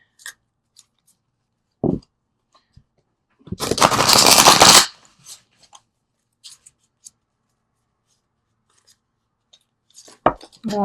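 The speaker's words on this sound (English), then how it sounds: "They're hard to shuffle this way." A single quick riffle shuffle of a new, still-stiff deck of playing cards, a dense papery flutter lasting about a second, with a few soft taps and clicks around it.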